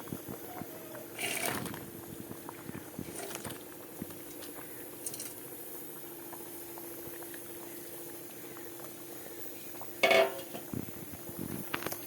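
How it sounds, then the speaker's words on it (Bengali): Lentil and potato fritters (dal bora) frying in hot oil, a soft, steady bubbling hiss with occasional clinks of a metal utensil against the pan and a louder clatter near the end. "এখন বড়াগুলো ঢেলে দেবো"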